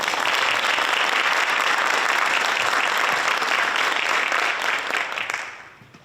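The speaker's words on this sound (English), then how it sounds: "Give them a round of applause, please." An audience bursts into sustained, dense applause for a panel of community women, a steady roar of clapping that holds for several seconds before fading out at the end.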